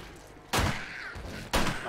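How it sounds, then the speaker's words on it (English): Two loud, sharp video game gunshots about a second apart, from 7 Days To Die, each a sudden broadband blast with a short ringing tail over a low background. "now I hear gunshots ringing out from the school"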